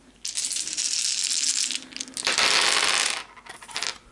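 Dice rattle and tumble during a game of the board game The Others, in two loud, close bursts of clattering plastic with a short pause between them and a softer rattle at the end.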